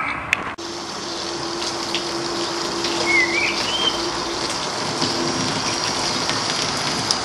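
A solar-powered water pump lifts water outdoors, producing a steady gushing, splashing flow for several seconds, with a brief bird call partway through and a sharp click near the start.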